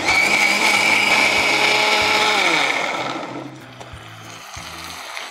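A Prestige mixer grinder whirs loudly and steadily while blending a paste for butter chicken, then winds down and stops, leaving low clatter.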